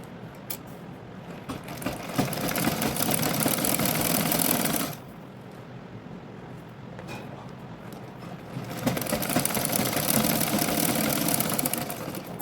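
A sewing machine stitches a tucked blouse in a boutique, whirring steadily in two long runs with a brief quieter pause between them, close and loud.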